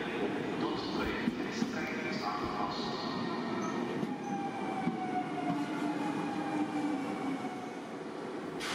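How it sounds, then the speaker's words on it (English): A Thalys PBA high-speed train at Amsterdam Centraal station gives a steady rail rumble with faint squealing tones and station noise, mixed with a busy, echoing platform ambience. "This is our train, a Thalys PBA unit, which is a variant of the TGV Réseau trains you see in France."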